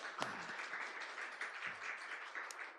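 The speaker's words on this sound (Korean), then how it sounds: "박수 한번 쳐줘" Light, scattered clapping from a small church group of children and teens, sparse and fairly quiet, with a few voices calling out over it.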